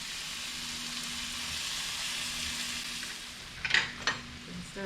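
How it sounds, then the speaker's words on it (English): Vegetables being stirred in a pan alongside frying shrimp with ginger, a steady soft sizzle with a few sharper scraping clinks of a utensil near the end. "Stir my vegetables a little bit more."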